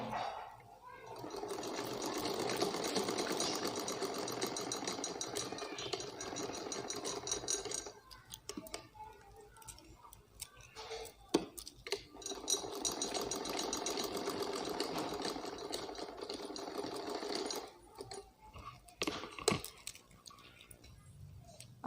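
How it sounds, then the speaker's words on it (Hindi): A sewing machine stitches an umbrella frock in two long steady runs of about eight and six seconds each, separated by a pause filled with handling noises and clicks, close and moderately loud. "फिर इसके ऊपर ये सिलाई लगानी है।"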